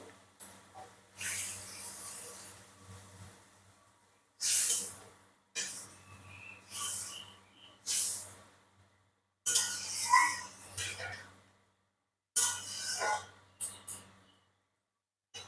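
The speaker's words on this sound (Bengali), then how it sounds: "সর্ষে বাটা দিয়ে একটু কষিয়ে নিয়েছি, এবারে দিয়ে দেবো পরিমাণ মতো জল।" Water poured into mustard paste in a hot pan gives several sharp hissing bursts, each starting abruptly and fading, separated by short quiet gaps with faint clinks.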